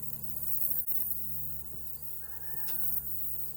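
Honeybees buzzing around an open hive during a fall inspection in Harnett County, North Carolina, a steady close hum with individual bees whining past, plus a brief knock.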